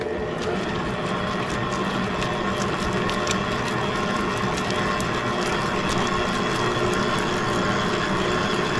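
A stand mixer kneads bagel dough at a higher speed, giving a steady, close mechanical whir with rapid ratcheting clicks that run evenly the whole time, and no one speaks.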